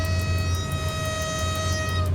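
An EU07 electric locomotive in the SimRail train simulator gives a steady, continuous drone with a strong low hum and sustained whine-like tones, loud and close throughout with no talk.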